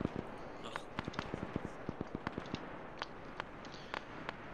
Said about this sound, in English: Firing to our south, that is the half platoon of Prav currently engaging hostiles.